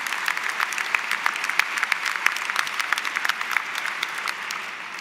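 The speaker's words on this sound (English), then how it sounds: "Big round of applause for our doctoral candidates" Audience applause for doctoral candidates at a campus commencement ceremony: steady, dense clapping from a large crowd, sustained at even loudness for the whole stretch without voices.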